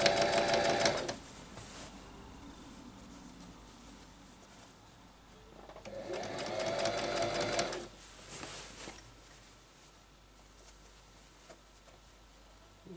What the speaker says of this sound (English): I'm just gonna be stitching it around